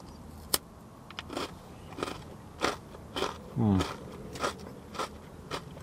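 Close, crisp crunching as someone bites into a chocolate-coated gingerbread Christmas tree biscuit with sugar sprinkles and icing, a sharp snap followed by several rhythmic chewing crunches, with a brief low vocal sound in between.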